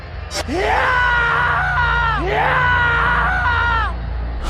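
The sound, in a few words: person screaming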